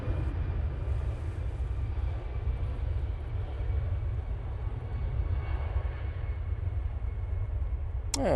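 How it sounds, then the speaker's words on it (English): A Lufthansa airliner departs Manchester Airport, a steady, distant broadband engine roar that holds evenly throughout. "Oh, there goes the Lufthansa."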